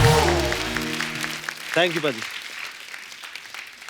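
A studio audience on The Kapil Sharma Show applauds a guest as he arrives, a steady wash of clapping running beneath a voice and a brief spoken thank-you.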